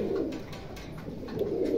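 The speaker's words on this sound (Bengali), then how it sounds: "গলায় লাল ডিগবাজি এলা কবুতর" A red-necked somersault pigeon from a Pakistani breed collection coos softly and repeatedly, low throaty calls pulsing close by with no talking.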